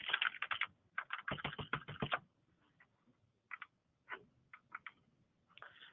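Quiet typing on a computer keyboard, a fast run of clustered keystrokes followed by sparser, hesitant taps, heard alone without talk.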